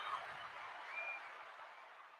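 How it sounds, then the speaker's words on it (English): Soundboard applause effect, a faint, thin wash of clapping that holds steady for about two seconds and fades slightly at the end, with no voices. "applause."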